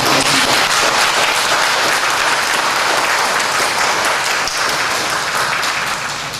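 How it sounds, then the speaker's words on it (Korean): A church congregation breaks into sustained, dense applause during a Sunday worship service, loud and steady throughout with no speech over it. "앞으로 열심히 하라고 오늘 격려의 박수를 드립니다"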